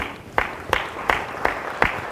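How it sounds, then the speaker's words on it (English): Audience applause at a medical conference, heard as five spaced, rhythmic claps that ring out evenly against a low background murmur. "a round of applause for these gentlemen"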